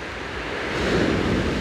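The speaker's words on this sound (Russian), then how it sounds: "Волны, конечно, здесь, оказывается, сильные бывают." Strong sea waves crash during a storm, a continuous heavy roar of surf mixed with wind buffeting the microphone, swelling louder toward the end with no talk.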